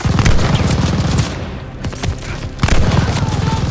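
Loud, close machine gun fire in the video game Call of Duty: Vanguard, during the Operation Tonga mission: rapid bursts of shots that pause briefly midway and then resume.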